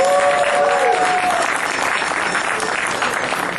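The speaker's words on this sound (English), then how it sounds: "We give a big round of applause." A convention audience at a Wintercon Q&A panel gives a loud, sustained round of applause from a crowd, with a brief amplified voice over the start.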